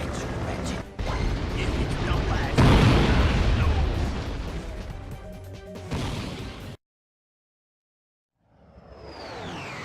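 A bomb blast in the video game Ratchet & Clank: Going Commando: loud, dense booming and crashing for several seconds, then a sudden cut to silence, followed by a fainter burst of game noise.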